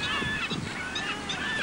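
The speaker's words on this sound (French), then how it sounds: "Les oiseaux crient ce matin d'été sur les marais salants de l'île de Ré" Seabirds cry over the salt marshes of the Île de Ré on a summer morning, a dense chorus of honking, overlapping calls rising and falling continuously, with no talking.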